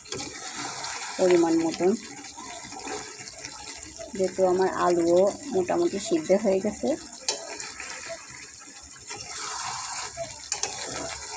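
Water is poured into a chicken and potato curry, a running gush heard beneath intermittent talk and rising at the end.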